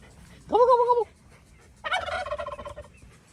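A turkey gobbles twice nearby in a farm setting, a short warbling call followed after a pause by a longer, rougher gobble, clear against quiet background.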